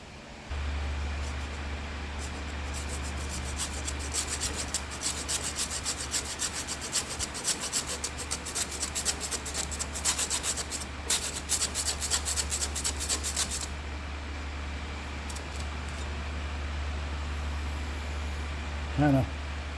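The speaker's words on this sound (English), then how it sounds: "I'm going to use a hand hacksaw here and try to keep my debris inside of there minimal." A hand hacksaw cuts through fuel line while an Edelbrock fuel pressure regulator with return is installed on a Pro Flo 4 EFI system. Steady rapid rasping strokes run for most of the span over a constant low hum, then stop.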